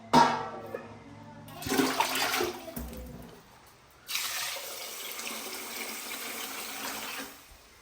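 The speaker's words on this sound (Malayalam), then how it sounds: "ഇനി നമുക്ക് ആവശ്യത്തിനുള്ള വെള്ളം ഒഴിച്ചിട്ട് ഇതൊന്ന്" Water gushes into a pot of rice gruel (kanji) in a couple of short bursts, then pours in a steady splashing stream for several seconds before cutting off.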